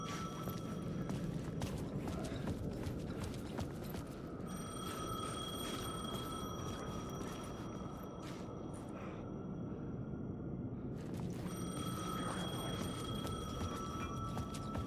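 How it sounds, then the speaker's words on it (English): Faint payphone ringing in Alan Wake 2, repeated bright electronic rings in two long bursts over a continuous low ambient hum, quiet and somewhat distant, with no talk. "The payphone was ringing."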